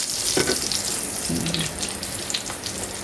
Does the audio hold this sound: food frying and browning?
yes